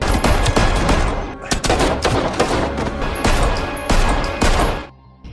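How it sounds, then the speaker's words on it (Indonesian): Gunfire in a film shootout: loud, rapid bursts of shots crackling almost continuously and close-up for several seconds before abruptly dropping away to near silence at the end. "si bos mafia akhirnya koit, namun sayang Elena juga harus terkena beberapa peluru"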